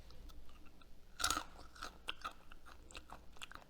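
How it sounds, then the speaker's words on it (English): Freeze-dried pineapple being crunched between the teeth: one crisp, loud bite followed by a few softer crunching chews, quiet and close, with no talking. "I'm gonna try one so you can hear how crunchy it is."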